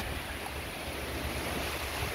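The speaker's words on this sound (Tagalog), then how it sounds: "Malakas ang ulan diri karon sa Butuan. Ni bumuho siya ng malakas at medyo may hangin," Steady, dense hiss of heavy rain with gusting wind noise in Butuan, Philippines, constant and enveloping, no voices.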